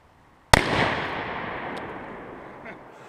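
A single sharp, loud .204 Ruger bolt-action rifle shot striking a block of clay outdoors, with a sudden crack and a long fading echo and a faint clatter afterward.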